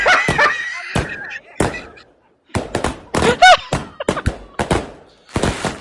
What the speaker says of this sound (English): What on earth? That's fireworks.